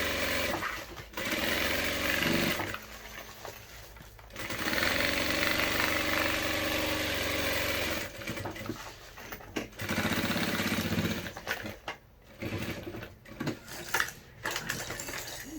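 A sewing machine stitching a safety seam along the fabric lining of a child's animal backpack: loud, close mechanical whirring in several long runs, broken by short pauses and a few small clicks, with no speech.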